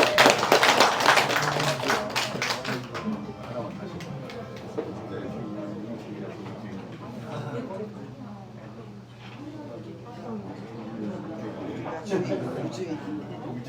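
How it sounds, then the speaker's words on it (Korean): Group clapping at a Korean community ceremony appointing neighborhood activists, a dense burst of hand claps in the first few seconds that fades into murmuring crowd chatter and voices. "박수 같이 쳐줘요."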